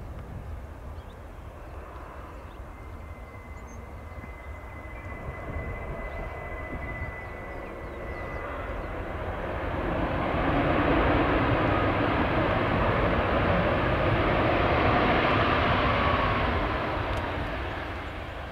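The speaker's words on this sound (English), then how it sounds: "Southwest is getting us officially started here." A Southwest Boeing 737 MAX airliner at Kahului Airport on Maui rumbles as a broad engine roar that swells to a peak midway and then eases, heard from a distance in light wind.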